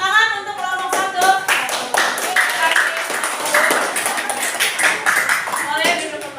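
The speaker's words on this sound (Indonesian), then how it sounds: "kasih tepuk tangan untuk kelompok 1" A classroom group claps for the first group of students after their presentation. The clapping is brisk and uneven, mixed with chatter and occasional light taps.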